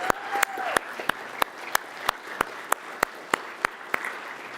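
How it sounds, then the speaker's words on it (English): Congregation applauding its volunteers in a community gathering, a continuous spread of clapping punctuated by one loud, evenly spaced clap repeating about every third of a second close to the microphone. "I will just give a round of applause for the volunteers."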